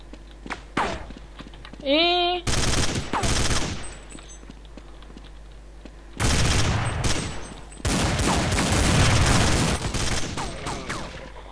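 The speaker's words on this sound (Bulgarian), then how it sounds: "И както винаги, автоматичният снайпер си дойде на думата." Auto sniper rifle fire in a Counter-Strike match: sharp bursts of rapid shots come in loud clusters, separated by quieter gaps with footsteps and game sounds.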